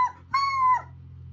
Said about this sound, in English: and then a whimper